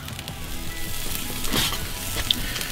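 Steaks finishing on a charcoal grill beside shrimp, giving a steady low sizzle with faint clinks of utensils, close and unbroken, with no voices.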